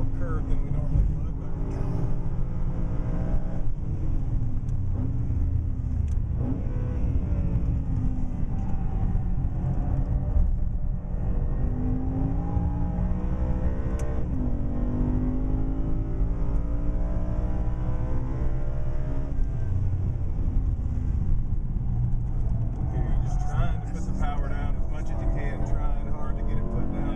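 A BMW M3 on a hot lap at Daytona, its engine droning steadily with rising and falling pitch sweeps as it accelerates and shifts, while a person talks over it the whole way.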